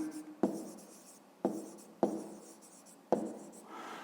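A pen or pencil writes out a fifth-grade maths exercise on paper, four sharp taps as it touches down, each followed by fading scratchy strokes, quiet and close, with no voices.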